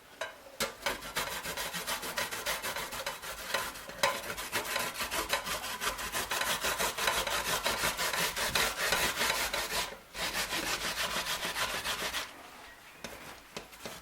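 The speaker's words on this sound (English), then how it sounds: "The next thing will be to grate your cocoyams." Cocoyams being grated by hand, a steady rhythmic rasping scrape repeated rapidly and close, loud and continuous with brief pauses near the end, no talking.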